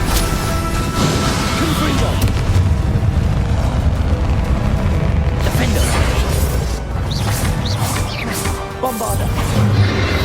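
Spell combat in Hogwarts Legacy, with a Bombarda blast among repeated magical booms, crashes and whooshes in a continuous, dense battle mix.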